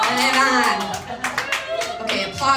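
Comedy club audience applauding during a stand-up set in Nashville, a short burst of clapping with cheers and voices mixed in, fairly close and lively, swelling and dipping over a few seconds.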